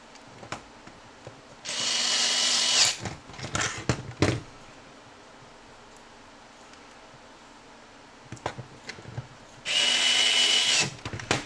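A power screwdriver drives two screws into a blaster muzzle, two sustained close whirring bursts separated by handling clicks and knocks of the plastic parts.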